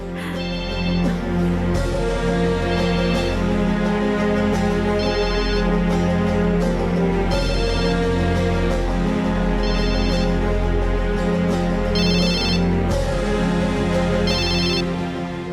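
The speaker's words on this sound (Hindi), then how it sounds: "लगता है किसी की कॉल आ रही है," A loud, repeating musical phone ringtone plays continuously, its bright chiming phrases recurring every couple of seconds with no talking.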